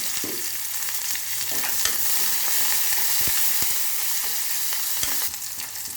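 Curry leaves and asafoetida spitting in hot oil for a chow chow sambar, a loud continuous close sizzle with a few sharp pops and light stirring knocks, no talking.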